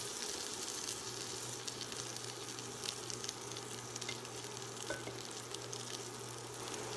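Eggnog French toast, coated in extra sugar, fries in butter in a Copper Chef pan with a steady, low, close sizzle and faint occasional pops, with no talking.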